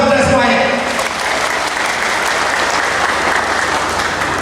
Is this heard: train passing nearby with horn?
no